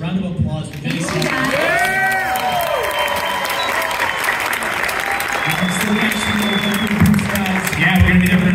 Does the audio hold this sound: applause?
yes